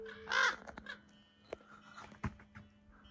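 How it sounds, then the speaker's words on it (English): Crows caw harshly overhead at a petroglyph site in California's Volcanic Tableland, one loud call early on followed by scattered shorter caws, near and alone with no talk. "these birds are telling me that they're not happy that I'm here"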